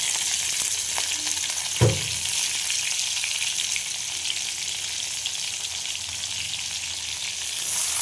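Garlic cloves and green chilies fry in hot oil in a pan, a steady close sizzle with a brief clatter of stirring early on.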